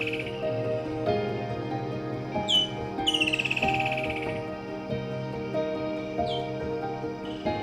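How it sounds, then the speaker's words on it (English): Birds call around a camp in Liuwa Plains National Park, Zambia: a few whistled chirps and trills stand out over a steady hum of croaking, buzzing wildlife, with no one speaking. "We sit in camp and enjoy the bird life"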